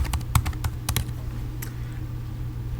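A computer keyboard is typed on in a quiet room, with quick clustered keystrokes in the first second and scattered taps after, then fading to low background hum.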